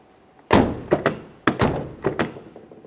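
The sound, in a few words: Subaru Outback rear car door closing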